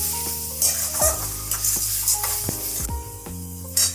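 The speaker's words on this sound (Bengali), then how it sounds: "আর দেব জিরের গুঁড়ো। দিয়ে এটাকে আমি কষিয়ে নেব ভালো করে।" Spices with cumin powder sautéing in a pan, a strong hiss of hot oil with a few spatula scrapes and knocks, close up and without talk.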